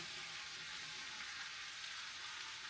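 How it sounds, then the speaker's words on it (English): Vegetables sizzle hard in a hot pan while cooking Panda Express-style firecracker shrimp, a dense, steady frying hiss that stays loud and close throughout with no talking. "our pan is nice and hot. This is a perfect time to throw in our vegetables"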